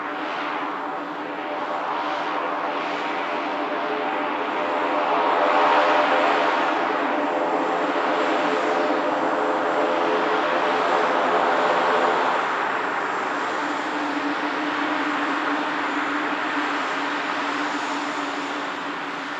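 A Beechcraft 200 turboprop at Manchester Airport gives a steady, fairly close engine whine and rush that swells slightly in the middle and holds without any talk.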